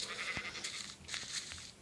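Minecraft sheep bleat in a farm pen, a couple of short faint bleats close together over a quiet background.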